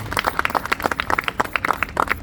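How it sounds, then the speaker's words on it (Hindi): Audience at a large Hindu gathering breaking into applause, a dense burst of rapid clapping from many hands, loud and close, with no talk over it. "इसके लिए ताली बजाओ एक बार अपने वीरों के लिए।"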